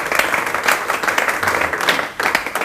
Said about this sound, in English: You can applaud, it's all right.